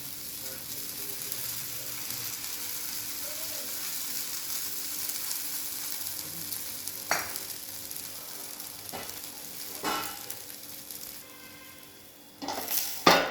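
A spinach paratha fries in oil on a pan with a steady, moderate sizzle throughout, broken by a few sharp scrapes and clatters of a utensil near the end.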